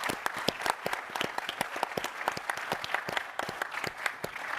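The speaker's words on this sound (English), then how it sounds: "I want all of us to give a huge round of applause for Jason and the show this time" An audience at the SaaStr Annual 2021 conference Plaza Stage breaks into sustained applause, many hands clapping in a dense, steady patter of moderate loudness that holds for several seconds without voices.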